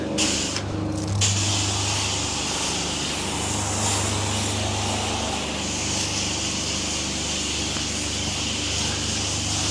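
A steady hiss of water on light spray rinsing a Triumph Bonneville T100 motorcycle runs without a break close by, a loud even wash of sound with a low hum beneath it.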